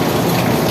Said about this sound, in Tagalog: Sa wakas ay umulan na medyo malakas.